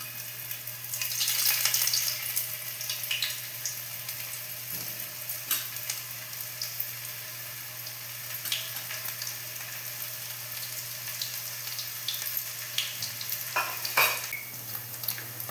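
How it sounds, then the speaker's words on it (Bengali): Paneer pieces fry one by one in hot oil in a wok, giving a continuous hissing sizzle with scattered sharp pops and crackles, plus a steady low electrical hum underneath. "এবার পনিরগুলো এক এক করে ভেজে নেব"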